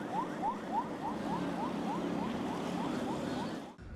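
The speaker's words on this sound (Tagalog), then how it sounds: "binasag ang katahimikan ng malakas na tunog ng sirena mula sa CCG vessel 5303" A rapidly repeating electronic siren wail from China Coast Guard vessel 5303, a steady whooping pulse over engine rumble, moderately loud before cutting off abruptly at the end.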